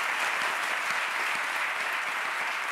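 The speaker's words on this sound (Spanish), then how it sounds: "Un aplauso" A television studio audience claps in a dense, even burst of applause that holds at a steady level for a few seconds.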